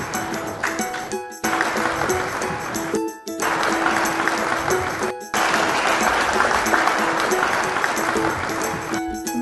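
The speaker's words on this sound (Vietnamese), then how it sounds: "Các em dùng tiếng vỗ tay để bình chọn nhé." Children clapping together to vote for a group in a smart-shopping kids' show, loud sustained clapping in long bursts broken by brief silent gaps.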